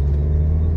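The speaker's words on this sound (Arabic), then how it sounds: "صوت المحرك كله جوا، هذا يسوي لك ازعاج جوا السيارة" A low, steady engine rumble hums inside the cabin of a self-driving car, droning evenly with a deep tonal drone and no other sounds.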